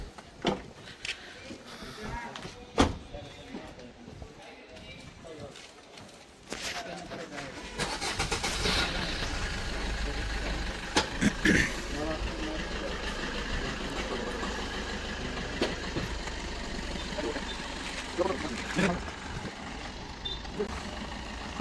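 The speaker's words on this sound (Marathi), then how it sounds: "मामा आता गाडी बाहेर घेत आहे." A 2019 Swift Dzire is started and driven out, its engine catching about a third of the way in and then running steadily and fairly close, with a few louder bumps and faint background noise throughout.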